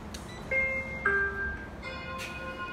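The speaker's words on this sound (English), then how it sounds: "I love that chime" A Schindler traction elevator chime in a downtown parking garage rings clear electronic tones, a few sustained pitched notes in sequence with faint clicks, close and alone against a low hum.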